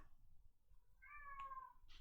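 A cat lets out a single clear meow indoors, faint against quiet room tone, followed by a brief rustle.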